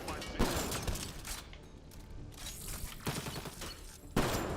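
Rapid gunfire from the sci-fi shooter Mass Effect Andromeda in multiplayer, a dense run of shots with sharp louder bursts near the start and end over steady game noise.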